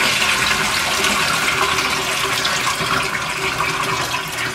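Cloudy, starchy rinse water from washed rice for Jamaican rice and gungo peas pours steadily out of a pot, a loud, continuous close-up splashing rush with no speech.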